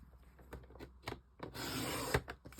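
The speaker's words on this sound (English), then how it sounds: "Now I'm going to pop it in the trimmer upside down, and I'm going to cut it at 8" A paper trimmer slices a sheet of coordinating cardstock during card making, heard as a close, steady rasping cut lasting about half a second, with light rubbing and handling noises before and after.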